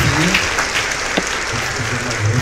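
A church congregation applauding during a worship service, dense steady clapping with a voice faintly underneath.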